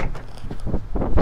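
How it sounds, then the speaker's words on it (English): Sliding side door on a 2017 Nissan NV200 SV cargo van rolling open, a series of close mechanical rumbles and knocks ending in a louder thud, with wind noise on the microphone. "And then we've got this sliding door as well."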